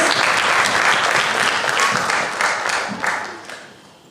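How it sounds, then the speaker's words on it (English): A classroom audience applauds a student who answered a math question, steady dense clapping from many hands that fades toward the end. "Let's give Shireen a round of applause."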